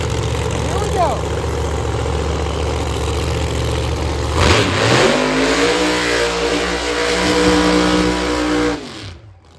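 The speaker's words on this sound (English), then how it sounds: "Big burnout." A 1969 Camaro Outlaw Pro Mod drag car doing a burnout at London Dragway, a loud idling rumble that swells into a roaring high rev, then cuts off sharply at the end, with a commentator talking over it.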